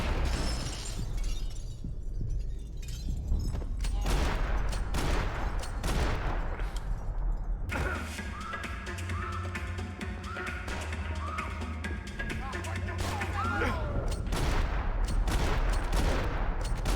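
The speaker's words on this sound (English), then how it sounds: "Who's shooting me?" Gunfire in Max Payne 3 on PC, a dense run of shots and shattering impacts that keeps going without a break, with a thick layered battle din after the midpoint and no voices over it.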